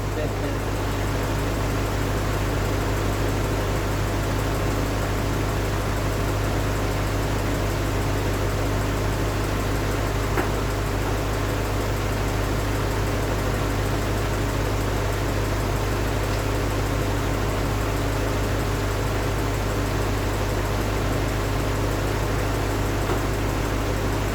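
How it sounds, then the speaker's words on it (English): Older car engine idling while parked during an air-conditioning check, a constant low hum with steady broadband noise and no change in pitch over many seconds. "You want to make sure you're not overheating, just sitting here idling"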